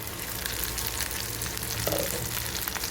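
Fish pieces fry on low heat in a covered pan, giving a steady muffled sizzle throughout with a faint low hum underneath and no voices.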